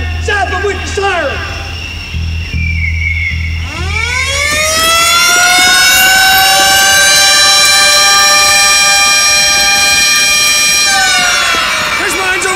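A siren in the Apocalypse Now film scene winds up loud and near from a low growl to a sustained wailing tone after rumbling engine sounds, with shouting voices around it.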